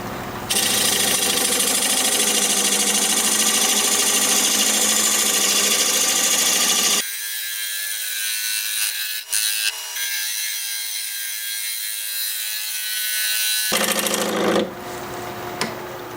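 A wood lathe spins a wood blank at about 800 RPM, giving a loud, steady whirring hum with a scraping tool cut at the start; partway through, the sound drops to a quieter, thinner hum before the cutting noise briefly returns.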